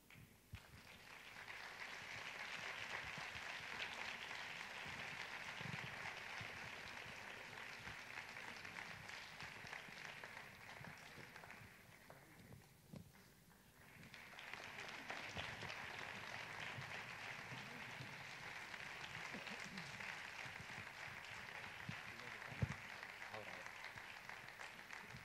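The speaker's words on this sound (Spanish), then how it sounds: "Recibamos con un fuerte aplauso al director de la banda de música del Pelote, Conrado Abad Verdú." Concert audience applauding the director of a town music band at a Santa Cecilia concert, sustained even clapping from a large crowd, briefly thinning midway before swelling again, with faint talk mixed in.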